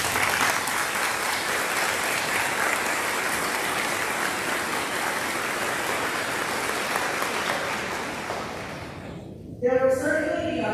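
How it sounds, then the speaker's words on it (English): Hearty applause from a crowd at a school moving-up ceremony, a dense, steady roar of clapping that holds for about nine seconds before fading, with a voice starting at the very end. "you deserve a hearty round of applause"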